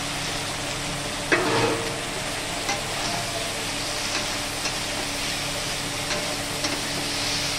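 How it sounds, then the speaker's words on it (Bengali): Fried cauliflower florets go into sizzling spices in a pan for a Bengali-style moong dal. A sharp splash at the start gives way to steady close frying hiss, with occasional stirring. "এবার যে কফিগুলো ভেজে রেখেছিলাম এগুলো দিয়ে দিলাম"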